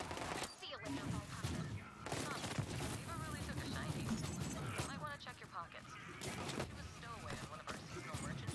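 Rapid gunfire from a weapon in Borderlands 3 rattles continuously in dense bursts, mixed with game effects while a voice talks over it.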